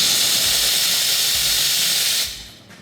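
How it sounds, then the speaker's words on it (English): An espresso machine's steam wand purges a loud, steady hiss of steam that runs alone for about two seconds, then cuts off and trails away. "I'm going to now purge that steam wand for any excess liquid or chemical cleaner that's in the steam tip."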